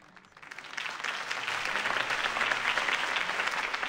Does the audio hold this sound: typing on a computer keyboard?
no